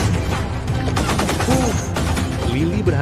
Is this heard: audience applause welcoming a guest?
no